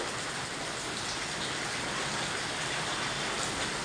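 Rain falls on a flooded road in Silchar, a constant dense hiss of water with no break or voices over the few seconds.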